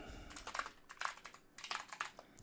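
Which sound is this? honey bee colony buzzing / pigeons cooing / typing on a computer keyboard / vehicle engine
typing on a computer keyboard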